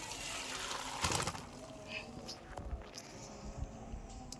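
Water is poured into a wok for boiling soybeans, a soft, low gushing splash with a few faint knocks, fairly quiet throughout.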